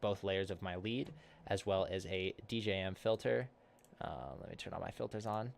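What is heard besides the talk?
No everyday noises stand out.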